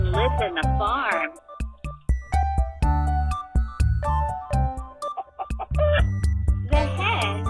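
A farm hen clucks in short, rhythmic bursts over steady background music, fairly loud and close, with no speech.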